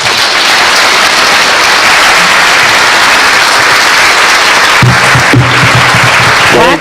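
Loud, sustained applause from a business forum and breakfast audience fills the space, with a few voices and a low hum surfacing near the end.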